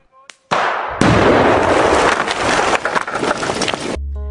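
Natural gas from a faulty oven explodes in a sudden loud burst, followed by a crackling, splintering roar that rattles on for a few seconds before cutting off abruptly.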